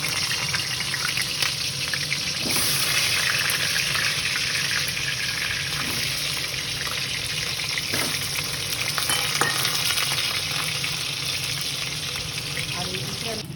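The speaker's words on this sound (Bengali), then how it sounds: "তেলটা গরম হয়ে গেছে, একটু লবণ দিলাম, দিয়ে আলুটাকে ভেজে তুলে নেব" Potatoes sprinkled with salt fry in hot oil for Bengali-style mutton kosha, giving a dense, steady sizzle close to the pan. Faint stirring scrapes and small pops surface throughout the long, even hiss.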